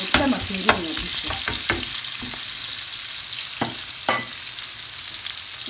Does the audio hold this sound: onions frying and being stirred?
yes